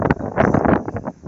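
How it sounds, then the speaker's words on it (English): Wind at an outdoor Battle of the Atlantic ceremony near the water: gusty buffeting rumbles against the microphone, loud and close, rising and falling unevenly throughout. "It's a little windy"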